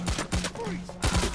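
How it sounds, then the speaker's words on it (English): In the video game PAYDAY The Heist, rapid gunfire is aimed at a security camera, sounding as a quick burst of loud shots that are close and sharp. "you shooting the camera. I'm shooting the camera."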